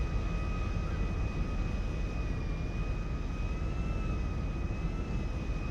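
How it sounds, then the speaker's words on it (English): A jet airplane taking off in GTA 5 gives off a steady, loud engine roar and whine that holds without a break and never fades, with a high tonal whistle running over a dense rumble. "There goes the plane taking off."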